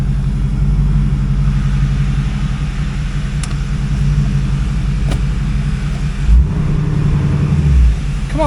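A 2008 Pontiac G8 GT with an aluminum L76 V8 pulls away in drive, a loud, steady low engine rumble from inside the car with brief swells as it moves off.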